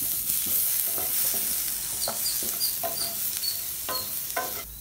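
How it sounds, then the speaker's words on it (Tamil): Tomato, curry leaves and masala are sautéed in a pan for a manathakkali kai kuzhambu. A close, steady sizzle sits under repeated sharp scraping strokes of a spatula at an uneven rhythm, with no talking. "எல்லாம் சேர்த்து இப்போ நல்லா இதை வதக்கிடலாம்."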